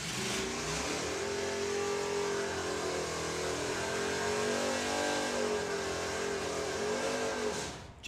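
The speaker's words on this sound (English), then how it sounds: "I am saved by the sound of V8." V8 drag racing cars at a VW drag racing event rev and accelerate in a long, steady engine roar that holds for several seconds at moderate distance before cutting off abruptly, with no voices.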